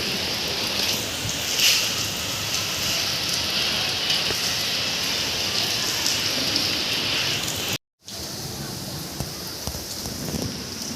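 Rain falling outside, heard as a steady dense hiss throughout, broken only by a brief silent gap near the end.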